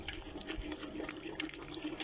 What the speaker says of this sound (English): Now I'm going to add some water. I'm just going to use the water the potatoes were in.